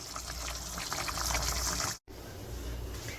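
Beef pepper steak with cilantro simmers in a pan, giving a steady close bubbling and sizzling hiss that cuts out briefly before resuming.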